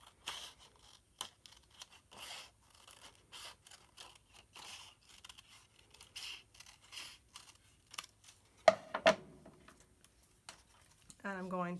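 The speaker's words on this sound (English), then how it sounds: "I'm going to cut out that contour." Scissors cut out the contour of a paper snowbank for a paper landscape, with a run of short, quiet snips at an even pace and a louder crisp paper rustle near the end.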